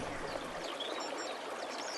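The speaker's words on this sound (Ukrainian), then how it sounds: "Чуєш шум річки?" A river flows steadily with a soft, continuous rushing and murmuring of water, even and unbroken, heard on its own at a moderate distance.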